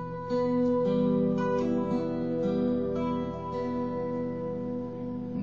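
A guitar plays the intro of a song, with arpeggiated notes ringing over a sustained low open string, moderately loud and steady with no voices.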